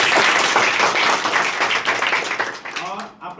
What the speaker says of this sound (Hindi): बालाजी के लिए ताली बजाना